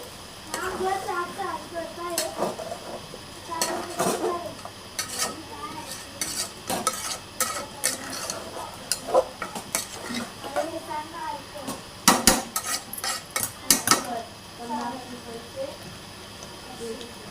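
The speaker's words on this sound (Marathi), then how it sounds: "वाटण पण आता हे परतून घेऊया." A thick ground masala paste for chicken curry is stirred and sautéed in a pot, giving a soft continuous sizzle with scraping spoon strokes and occasional louder clanks of utensil against metal, close by.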